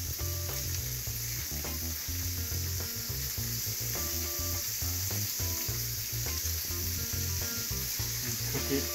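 Hamburger meat for venison chili sizzles and crackles in a pan, steady frying with occasional scraping and stirring sounds close by, and no one talking.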